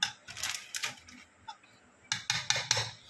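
Ingredients including mozzarella cheese being mixed in a bowl for a Ramadan iftar dish, heard as bursts of spoon scraping and clinking against the bowl, close and irregular, with short pauses between strokes.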